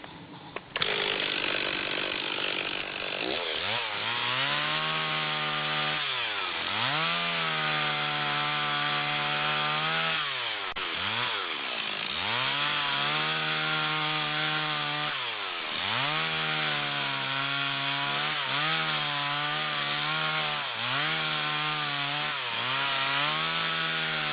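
Chainsaw cutting a hung-up tree with the slice of bread technique across a total hinge on a trunk up to 380mm, a loud continuous engine whine rising and falling as the throttle revs and bogs in repeated cuts.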